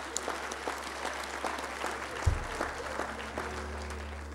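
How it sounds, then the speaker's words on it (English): A church congregation claps in praise during a Sunday morning service, with individual claps standing out in the crowd's applause, a low thump partway through, and a sustained keyboard or organ tone underneath. "Let's give the Lord a hand clap of praise."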